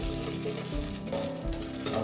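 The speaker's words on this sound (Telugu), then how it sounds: "హాఫ్ టీ స్పూన్ ధనియాలు వేసుకోవాలి అలాగే కొద్దిగా జీలకర్ర వేసుకొని ఫ్రై చేసుకోవాలి" Green chillies, coriander seeds and cumin sizzle steadily in hot oil in a pan, a continuous crackling fry with occasional stirring scrapes, close and fairly loud with no voices.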